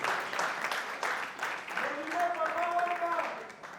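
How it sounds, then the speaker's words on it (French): Audience applause fills the Dôme de Paris during a Ferré Gola event, a continuous crowd clapping wash that runs throughout while a voice speaks over it. "Et il mérite également ce soir vos applaudissements."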